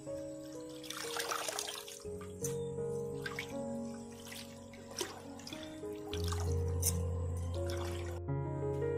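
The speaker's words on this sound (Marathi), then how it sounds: "सर्व भाजी आम्ही व्यवस्थित अशी धुवून घेतलेली आहे आणि ती एका टोपलीत आम्ही निथळत ठेवूया" Water dripping and trickling from freshly washed leafy greens left to drain in a basket, with irregular drips and patters over a steady background hum.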